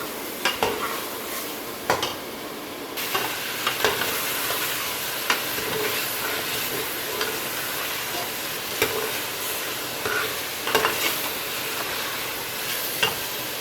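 Mutton chunks fry with ginger and garlic in a pot, giving a constant dense sizzle throughout, punctuated by repeated scraping and clinking as a spoon stirs against the metal, close and steady with no voices.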